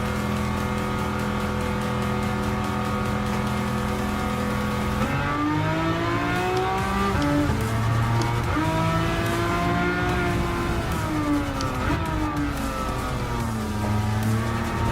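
A classic 350-horsepower race car in Gran Turismo 7 holds a loud, steady engine drone, then revs up and down through rising and falling pitch sweeps, close and continuous with no talk over it.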